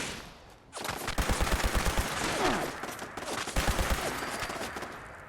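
Turret gunfire in Fallout 76: rapid bursts of automatic shots in two clusters, loud and close, with a short lull between them.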